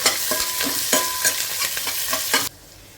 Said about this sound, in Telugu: ఈ ఉల్లిపాయ ముక్కల్ని 1 నిమిషం ఫ్రై చేసేసుకోవాలి